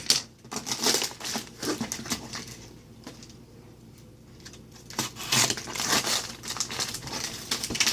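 Paper bag packing in an Amazon box being pulled open, with close crinkling and crumpling bursts that come and go, a quieter pause in the middle, then more rustling.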